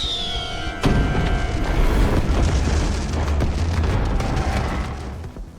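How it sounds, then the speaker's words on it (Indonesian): A sudden loud boom of fireworks bursts out, followed by rumbling, crackling blasts and rolling explosions that continue and slowly fade. "Sang ayah menyuruh Ricky untuk menyalakan kembang api guna memancing para monster itu."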